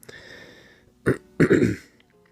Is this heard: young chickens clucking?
no